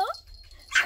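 A 20-day-old puppy gives a tiny, faint high-pitched yip, one short squeak at the start and another at the end, close by in a quiet room.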